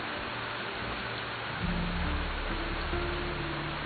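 Steady rain falls in a dense hiss while low thunder rumbles and rolls in the background, swelling partway through, with no voices.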